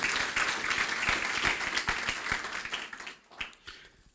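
A church congregation applauds loudly and steadily for about three seconds, broken by a few sharper claps, before the clapping thins into scattered claps at the end.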